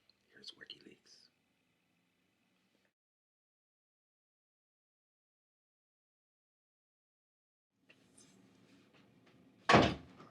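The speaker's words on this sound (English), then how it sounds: "Door." A door opens or shuts with a single sharp, loud thud near the end, preceded by faint rustling and a brief whispery voice at the start, with near silence in between.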